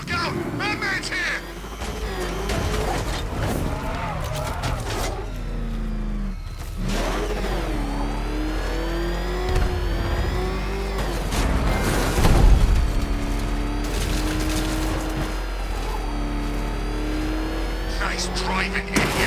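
The Batmobile's engine roars and revs continuously in Batman: Arkham Knight, rising and falling in pitch beneath loud, overlapping voices of characters talking.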